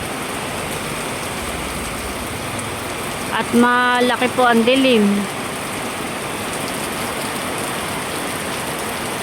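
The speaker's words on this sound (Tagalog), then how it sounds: "malakas ang ulan." Heavy rain pours steadily on a rainy day, a dense continuous hiss filling the whole stretch, with a person speaking briefly over it partway through.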